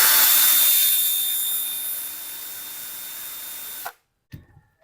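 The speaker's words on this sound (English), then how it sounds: "Give it a bit of sanding." Sandpaper is wrapped around the top of a rivet on a cycling shoe and rubbed against it in a steady, close abrasive hiss that fades, then stops abruptly, followed by a couple of small handling knocks.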